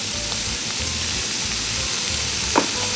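Onions and pancetta frying in a pan for bucatini carbonara, giving a steady broadband sizzle through the whole stretch with low stirring scrapes and one brief utensil clink near the end, close and with no voices.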